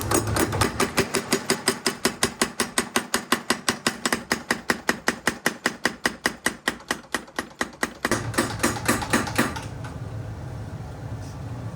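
Hand-forged knife blade being hammered straight in a rural Shikoku smithy: a steady rapid run of sharp metallic strikes, roughly two or three per second, close and loud for about eight seconds, then a brief quicker flurry before it stops.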